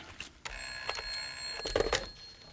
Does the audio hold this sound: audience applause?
no